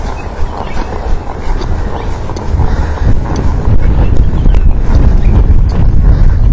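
A ridden horse moves along outdoors, its hooves giving a steady clip-clop beneath heavy wind rumble and broadband noise that grows louder toward the end.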